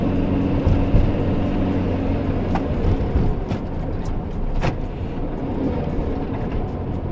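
An old van's engine with the gas pedal floored: a loud, steady, rough low drone and rumble that holds for several seconds, with a few faint clicks over it.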